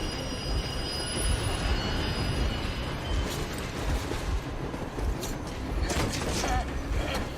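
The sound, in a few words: train passing in the video game Metro Exodus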